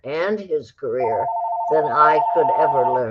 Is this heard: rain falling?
no